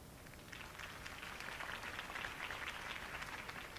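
Steady crowd applause in a Batman video game, a dense patter of many hands clapping throughout, fairly distant and even in volume with no voices on top.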